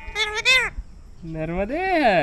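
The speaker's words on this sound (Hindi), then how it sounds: "देख रहा तोता नर्मदे हर बोल रहा है।" A pet parrot, kept for many years, calls out the chant "Narmade Har" on a Narmada Parikrama pilgrimage walk, with two shrill, close, nasal vocal phrases split by a short pause.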